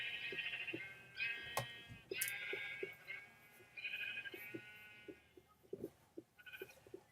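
Several sheep bleat in turn, wavering nasal cries overlapping at times, with soft clicks and thuds between calls; fairly close, no talking.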